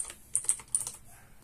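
A username is typed on a computer keyboard in a short, close burst of several crisp key clicks. No one speaks.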